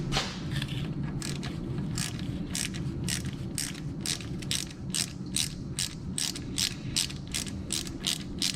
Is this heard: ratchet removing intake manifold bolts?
yes